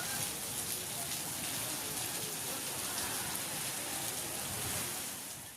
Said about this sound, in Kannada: ಮಳೆ ಜೋರಾಯ್ತು, ಹೆವಿ ಮಳೆ ಮತ್ತೆ ಹೆವಿ ಗಾಳಿ ವೀಕ್ಷಕರೇ